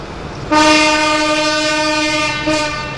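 Diesel shunting locomotive D2310 sounds a loud, close two-tone horn blast, then a shorter second blast, over engine rumble as it departs Shackerstone station on a heritage railway.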